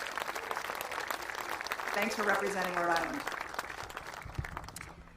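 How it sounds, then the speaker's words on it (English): Applause from an audience at an outdoor officials' event on a development project in Pawtucket, scattered clapping rising and fading under a voice speaking. "let's give him a round of applause for that"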